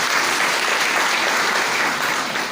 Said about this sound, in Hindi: तो चलिए आप सभी के लिए जोरदार ताली होना चाहिए।